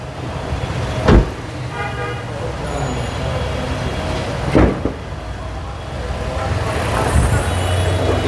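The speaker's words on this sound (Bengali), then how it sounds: "গাড়িটা আমি স্টার্টে রেখেছি ইঞ্জিনের সাউন্ডটা আপনাদেরকে দেখানোর জন্য।" Fully loaded Toyota Harrier car idling with its engine running, a steady low hum held throughout, with a few sharp knocks standing out above it.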